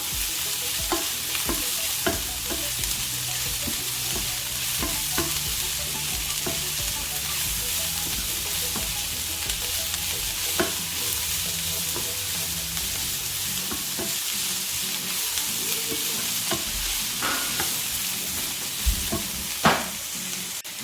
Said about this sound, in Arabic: هنا من بعد ما نزلات بينا البصله غادي نضيف الفلفله، خلط واحد شويه